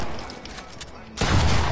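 Heavy burst of gunfire erupts in a shooting video game, a dense loud volley crashing in near the end after quieter game sounds with voices underneath.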